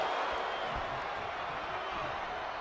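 Dense, steady roar of a large arena crowd cheering at a WWE 2K24 wrestling match, a continuous wash of massed voices held at a constant loud level with scattered claps and shouts.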